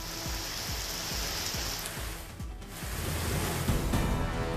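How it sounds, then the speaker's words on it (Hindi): Heavy rain pours down in Valsad, Gujarat, a dense steady hiss of drops on surfaces that stays loud and constant throughout, with no speech. "शहर के कई हिस्सों में हुई झमाझम बारिश।"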